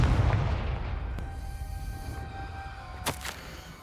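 A Confringo blasting spell explosion in Hogwarts Legacy starts with a deep booming rumble that fades over several seconds, followed by a sharp crack near the end, with no voices.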